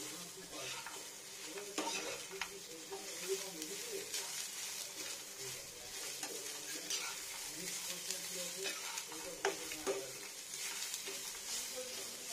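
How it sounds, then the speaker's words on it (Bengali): Onion frying in a pan with a steady soft sizzle, broken by occasional scraping and stirring knocks of a utensil against the pan, heard close up and fairly quiet. "পেঁয়াজটা ফ্রাইং করে নিই"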